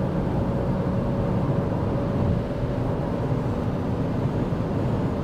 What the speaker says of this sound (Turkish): Rüzgar sesi 130'dan sonra gelmeye başladı.